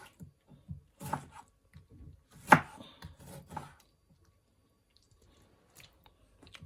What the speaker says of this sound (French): And I will cut fresh tomato in small pieces as well.